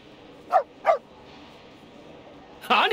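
Two short dog barks from a border collie in the video game Reverse: 1999, followed by a louder burst of game sound at the end; moderately near and clear over a quiet background.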